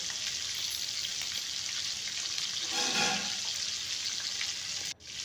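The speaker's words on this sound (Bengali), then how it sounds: "একদিকটা আমি লাল লাল করে ভেজে নিয়েছি অপর দিকটাও লাল লাল করে ভেজে নেব" Chicken pieces fry in a pan with a steady close sizzle, a short swell of stirring near the middle and a sharp click just before the end.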